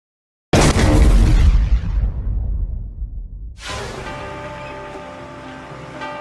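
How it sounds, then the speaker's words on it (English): A fireworks factory in a quiet Devon village explodes in one huge, roaring blast that rumbles and fades over a few seconds, followed by a sustained crackling, hissing roar of burning and secondary bursts. "a fireworks factory explodes with 13 workers trapped inside"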